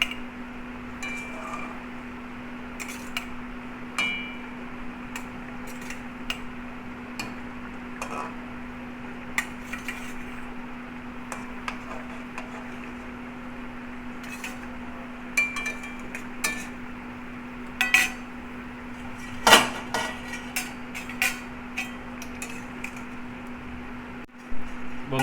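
Light clinks and ticks of a pot lid and utensils while hilsa fish curry with brinjal cooks on the stove, faint scattered taps over a steady electrical hum, no speech.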